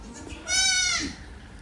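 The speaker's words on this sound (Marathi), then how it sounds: "आता हे पण पिल्लू ओरडायले" A newborn goat kid gives a single short, high bleat, close by, against a quiet background.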